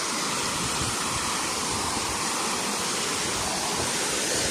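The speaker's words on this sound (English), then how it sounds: "Let's see if we can get a view of the little waterfall." A small waterfall at a nature spot in Delfinópolis, Brazil pours in a steady, dense wash of falling water, close and continuous with no voices over it.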